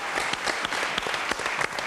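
Studio audience in an Italian RAI television broadcast claps in a sustained burst of applause, dense irregular hand claps at close range with no voices over them.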